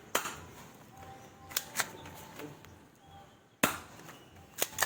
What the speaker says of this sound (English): gonna shoot this airsoft spring pistol gun in that egg right there